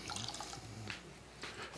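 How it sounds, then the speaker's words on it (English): Water poured into a vessel, a faint, brief trickle with a few small splashes and drips. "I think we can put some water in now"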